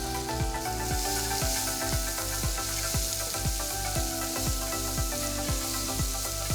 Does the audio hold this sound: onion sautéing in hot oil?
yes